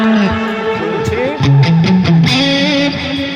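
Electric guitar on a second clean preset plays a short melodic phrase of clear picked single notes, loud and close.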